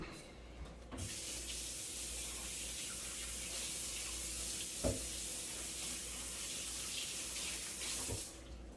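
A cutting board rinsed under a running kitchen tap: a steady rush of water runs for several seconds, with a few knocks and clunks as the board is handled, then the flow stops.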